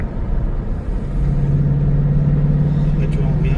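Ford Mustang V8 5.0L engine rumbles low and steady while driving, a deep constant drone with a held tone, heard up close inside the car.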